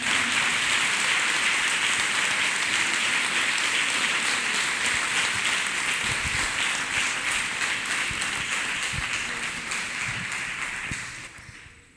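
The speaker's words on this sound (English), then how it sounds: "Let us clap our hands for Jesus, people of God." A church congregation claps hands together in dense, steady applause at a worship service, loud and sustained, tapering off at the very end.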